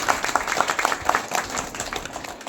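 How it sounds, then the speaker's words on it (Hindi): An audience at a Hindi religious sermon claps together in a lively round of applause, with individual claps audible in a quick, uneven rhythm, moderately loud and close. "एक बार तालियां बजाइए।"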